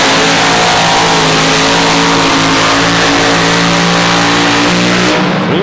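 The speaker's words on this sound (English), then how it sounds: "Be interesting to see if they just cut off that front right motor or if it's running at full song." Super modified pulling tractor engine revving hard at full power during a tractor pull at Lucas Oil Speedway, a loud, sustained roar holding steady for several seconds before cutting off abruptly near the end.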